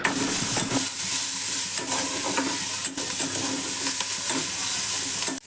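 Vegetables seasoned with salt and turmeric stir-fry in a pan, giving a steady loud sizzle broken by repeated scraping strokes of a spatula, close up and without any voices.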